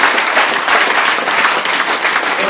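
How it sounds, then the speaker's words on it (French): A church congregation at a Sunday service claps loudly and continuously, dense applause filling the space for a couple of seconds with no break. "Acclamez bien fort pour elle."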